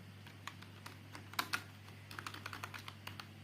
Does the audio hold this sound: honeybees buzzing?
no